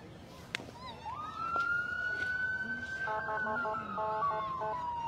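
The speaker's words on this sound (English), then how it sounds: "The flashing lights we can see and some sirens can be heard." Emergency vehicle sirens approach at the Six Nations Santa Claus Parade, a steady wailing tone rising in from a distance and holding, with other siren tones layered in, fairly faint over outdoor crowd ambience.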